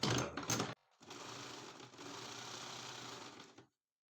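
Sewing machine stitching a double puff sleeve, a short burst, a pause, then a steady rapid whirring run of stitches close up that stops abruptly.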